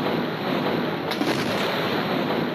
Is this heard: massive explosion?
yes